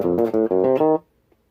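A bass guitar plays a short polymodal chromaticism riff: four quick plucked notes in a steady rhythm, close and clear, ending abruptly with no talking.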